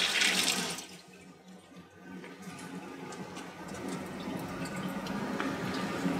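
A water jet runs from the upper nozzle of a wire EDM machine during nozzle alignment maintenance, a steady close hiss and splash of falling water, louder at the start and then holding even, with no talking.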